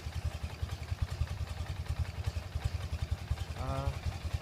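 A 1977 BMW R100S motorcycle engine, all original, runs steadily with a fast, even low-pitched pulsing close by. A brief higher tonal sound rises near the end.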